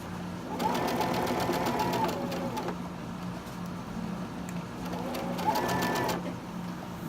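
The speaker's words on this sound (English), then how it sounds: "You could do all 4 of them actually chain stitching" A domestic sewing machine runs in two bursts of rapid, steady mechanical stitching while chain stitching Halloween sew-along quilt pieces, with a short pause between bursts and a constant low hum underneath.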